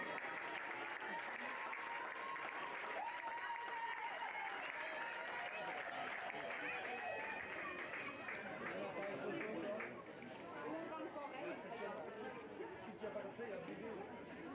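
Spectators at a pony club equestrian competition applaud the riders, steady faint clapping spread over a long stretch with crowd chatter and voices running underneath throughout.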